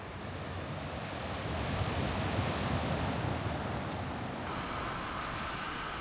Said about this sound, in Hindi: लहरों की आवाज़ यहाँ पे आपका मन मोह लेगी।